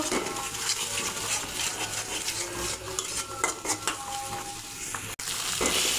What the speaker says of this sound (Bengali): মশলাটা আবার ভালো করে কষিয়ে নেব।